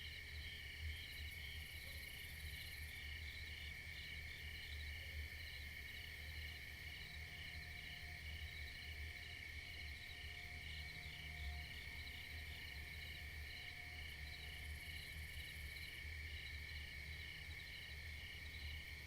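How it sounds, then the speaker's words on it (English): Crickets chirping at night under a full moon, a faint but steady high trill pulsing continuously throughout with a low background hum and no talking. "Listen to how loud the crickets are."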